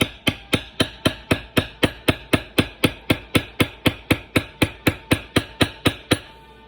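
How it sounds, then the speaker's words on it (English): A mallet strikes a checkered beveler on leather in a steady run of about twenty-five evenly spaced, sharp, close knocks, each ringing briefly before the next, with no voices. "I'm using a checkered beveler"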